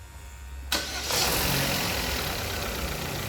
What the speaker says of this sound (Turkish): Ya Allah bismillah marşına basalım